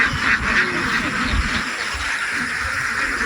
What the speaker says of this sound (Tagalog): ang dami na naman palang itik si Iste